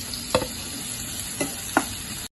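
Egg curry masala fries in a pan while a spoon stirs it, three short scraping strokes over a low continuous sizzle, close and quiet with no voices.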